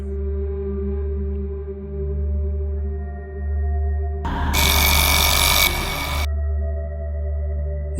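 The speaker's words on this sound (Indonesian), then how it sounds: "Dia mendengar ada suara jam weker berbunyi" Over a steady droning hum in a horror film, an alarm clock rings loudly for about two seconds in a harsh continuous burst, then cuts off.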